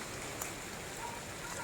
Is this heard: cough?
no